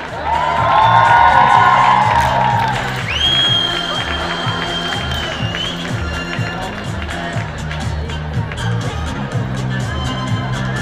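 Crowd cheering and applause at a Czech high school graduation ball, loud whoops and shouting over rhythmic dance music with a repeating beat, fading into music beneath an announcer's voice.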